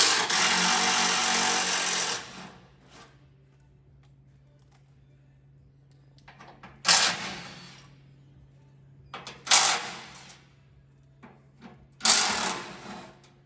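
Power tool spinning out 15mm bolts that hold the front tie bar to the chassis of a 2018-22 Ford Ranger PXIII dual cab, a long loud burst followed by three shorter close bursts with quiet gaps between them.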